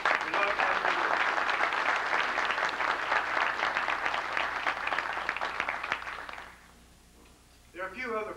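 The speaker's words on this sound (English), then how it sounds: "I'd like to ask him to stand and for us to give him a round of applause" A large audience applauding at a formal gathering, dense sustained clapping for about six seconds that fades out, followed by a brief bit of talking near the end.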